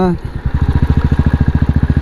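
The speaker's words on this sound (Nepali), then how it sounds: "350 सीसीको क्लासिक बुलेट बाइक कुदाइरहेको छु होइन" A Royal Enfield Classic 350 motorcycle engine thumps in a steady, evenly spaced low rhythm, close and loud, settling into a regular beat after a brief rising start.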